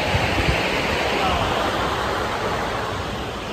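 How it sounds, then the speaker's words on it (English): Ocean waves roll onto a secluded beach in Los Angeles, California, making a continuous broad wash of surf that stays fairly loud and steady throughout. "It's waves."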